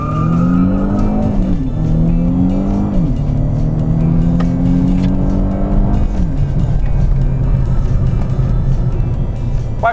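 A 2015 Renault Mégane GT Sport with a 205 hp 1.6 petrol turbo and dual-clutch gearbox launches hard, its engine note climbing loudly through quick upshifts with short dips between gears, then settling into a rushing roar.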